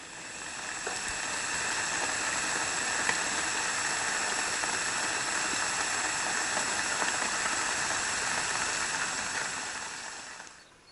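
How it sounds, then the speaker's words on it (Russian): Burbot fish frying in a pan over a campfire gives a steady, even sizzling hiss that holds for the whole stretch and fades at the end. No talk is heard over it. "И все жарим, ребята."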